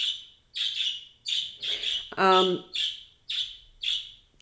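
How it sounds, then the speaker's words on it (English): Birds chirp in a regular series of bright, sharp calls, while a brief voice cuts in partway through. "Yeah, hear the birds."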